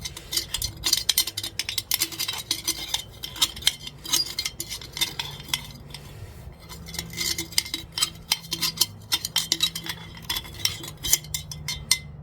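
A tool scrapes material out of a sample in a quick irregular series of small metallic clicks and scratches, close up and fairly faint, with no voices.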